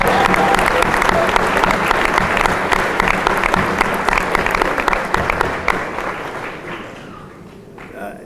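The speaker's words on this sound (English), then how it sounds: "That's worth some applause." A commencement crowd at Benjamin Franklin Institute breaks into loud, sustained applause, many hands clapping together at full strength before gradually thinning and fading toward the end.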